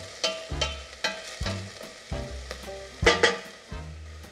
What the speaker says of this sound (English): Give it a stir around, let it cook through until it's translucent.